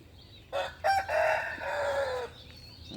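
A Pradu Hang Dam rooster crows loudly nearby in one long drawn-out call, with faint clucking from free-range chickens around it.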